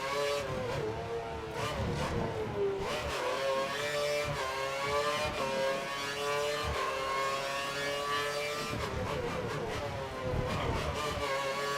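A Formula 1 race car engine in the game F1 2013 during a night race at the Singapore Grand Prix: a loud, continuous high-pitched whine that rises and falls as it revs through gears, heard from the cockpit.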